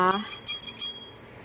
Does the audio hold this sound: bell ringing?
yes